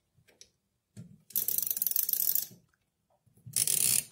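Two bursts of dense mechanical ratcheting clicks, close and fairly loud, as the alarm knob of a mechanical flip clock is wound, separated by a short pause.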